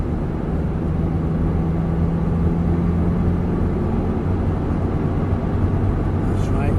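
A Ferrari driven by an eight-year-old around a track circuit at speeds up to 76 mph, heard as a steady, loud engine drone from inside the car that holds constant throughout.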